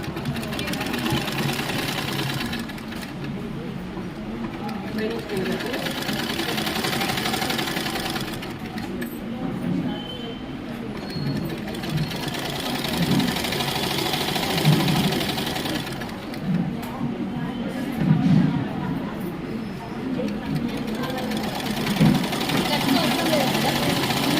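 Domestic sewing machine stitching the seams of a school uniform shirt, a steady mechanical whirr running through the whole span with brief pauses, while someone talks over it.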